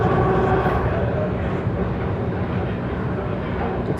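A passenger train runs at about 75 km/h, heard from on board as a steady, loud broadband rumble and rattle of the carriage with no clear breaks.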